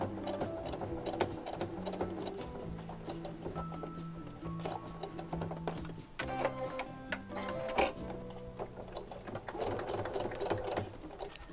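A sewing machine stitches fabric for a cat-themed alcohol bottle holder, running steadily and close with a fast rhythmic mechanical ticking throughout, briefly slowing at moments.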